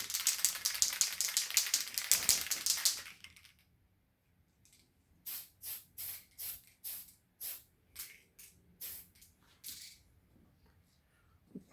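A Tamiya aerosol can sprays in a long continuous hiss, then in about ten short, evenly spaced bursts after a pause, close and alone with no talking.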